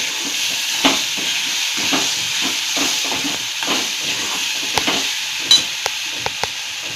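Coriander and ginger masala paste frying in a pan for a Bombay duck curry, a steady loud hiss and sizzle with soft stirring scrapes and a few light taps of the spoon near the end, close and without voices.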